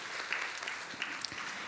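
A church congregation at a Sunday worship service gives encouraging applause, a soft, even patter of many hands clapping at a moderate distance, with no voices over it.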